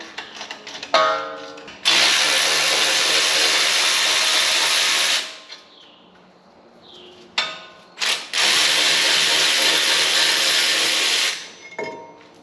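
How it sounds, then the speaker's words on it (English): A 17mm socket and ratchet loosening a front brake caliper bracket on a 2016-2021 Hyundai Tucson or Kia Sportage: two long, loud, close bursts of harsh mechanical whirring, separated by a brief quieter pause. "we're going to take our 17mm socket and ratchet, and we're going to go ahead and loosen this caliper bracket"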